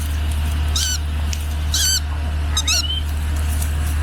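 A falconry bird being flown in a field on a Maldives island gives a few sharp, repeated harsh squawks, fairly close, over steady low wind rumble.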